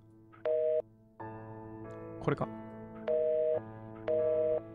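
Telephone tones in the murder-mystery investigation video game Scene Investigators: repeated beeping phone signals in short bursts over a steady electronic drone, with a brief spoken interjection in the middle.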